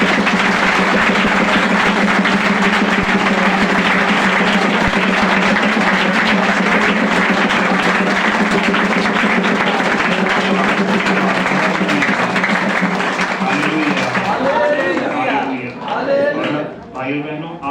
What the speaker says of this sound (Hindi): जोर से ताली बजाकर प्रभु यीशु मसीह